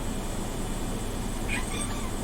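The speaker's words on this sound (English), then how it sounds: "you could probably hear my cat fighting in the background" A cat meows once, faint and distant, in the background over steady low room noise, with a brief higher cry following.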